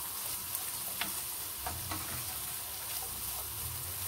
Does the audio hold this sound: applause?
no